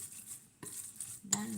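A spoon stirs and mixes raw arayes filling in a bowl, making soft scraping, quiet clinks and two brief louder knocks against the dish, with no talking.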